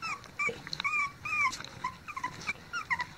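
Several young puppies whimper and yip in short, high-pitched bursts, with a low growl mixed in, the cries close by and rising and falling unevenly with no talking over them.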